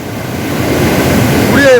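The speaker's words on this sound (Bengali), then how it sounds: "দেখুন জল বেড়ে যাচ্ছে" Rising water washes in as steady waves at Murguma in Purulia, a continuous broad rushing wash with wind noise, building slightly louder, with a brief thin whistle-like tone near the end.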